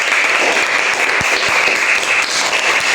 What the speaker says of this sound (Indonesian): Oke, beri tepuk tangan buat kelompok 3.